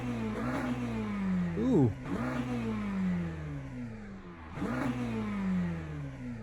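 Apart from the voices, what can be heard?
McLaren GT3 engine revving in Le Mans Ultimate video game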